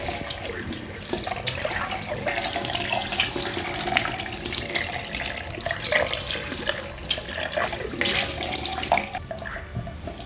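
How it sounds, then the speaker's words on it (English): Tap water runs steadily into a kitchen sink while steel wool is soaked under the stream, a close, continuous splashing with faint clinks and rubbing throughout. "First we soak the steel wool and make sure the dirt is gone."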